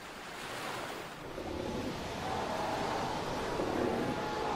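Ocean waves breaking along a desert coastline, a steady broadband surf roar that swells slightly louder midway, with wind noise across the microphone and no voices.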